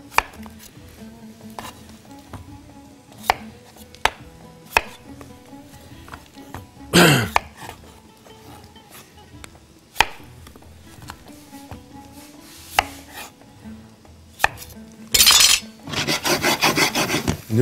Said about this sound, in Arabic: بيت الشغل اللي حدايا ده نقطعه مكعبات